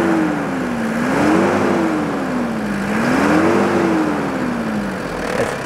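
The 2.7-litre engine of a Nissan Terrano 2 revs loudly and up close, its pitch rising and falling twice in slow, smooth swells.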